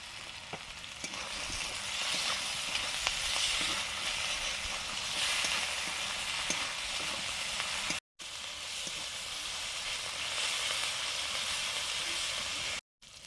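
Spices sautéing in a pan for a home-cooked curry give a steady, fairly quiet sizzle and crackle that runs unbroken apart from two brief cut-outs.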